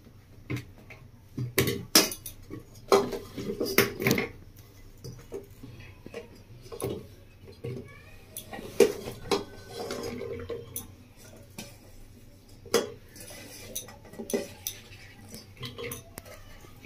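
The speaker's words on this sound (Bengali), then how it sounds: "প্রেসার কুকার নিয়ে নিয়েছি, তার মধ্যে সব সবজিগুলো আমি দিয়ে দেবো।" Chopped vegetables, washed and cut beforehand for a mixed-vegetable masoor dal with drumstick, are dropped into a pressure cooker, giving a series of close clattering knocks, clinks and scrapes against the metal pot at an irregular pace, with no talking.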